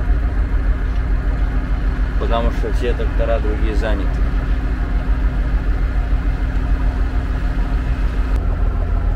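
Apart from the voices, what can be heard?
MTZ 1025 tractor engine idling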